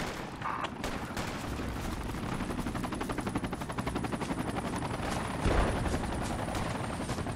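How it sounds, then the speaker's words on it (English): Military helicopters thump steadily overhead in the video game Project Reality, a dense rapid rotor chop that carries throughout, mixed with bursts of gunfire in the distance and no talking. "Man, those helos are on point."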